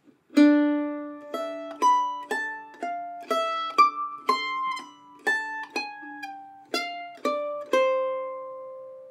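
A mandolin picks a bluegrass break from a song, measures 13 and 14, as a steady string of clear, close single notes, each ringing briefly before the next, played alone at a moderate pace.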